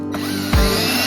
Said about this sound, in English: And now we're able to use our graduated bit, and we're going to make a 5" or 5/8 inch